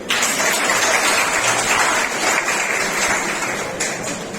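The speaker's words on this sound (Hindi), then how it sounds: "एक बार तालियां" Audience applause fills a university hall at a National Librarian's Day event, steady dense clapping throughout, close and even, gently fading toward the end.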